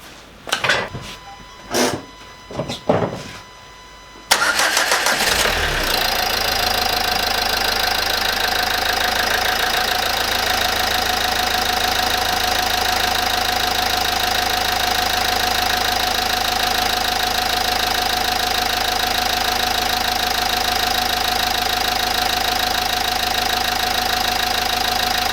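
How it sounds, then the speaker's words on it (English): A Renault Megane Mk3 diesel engine cranks and catches after a few short bursts, then settles into a steady, loud, knocking diesel idle that continues without pause. "let's go start this engine up."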